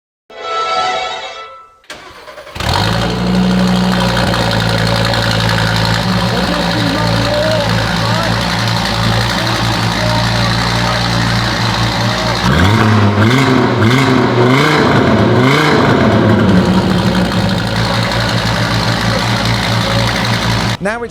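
A supercar with its homologated standard exhaust and a cold catalytic converter fires up with a loud start, settles into a rumbling idle, then revs sharply several times near the end, close by.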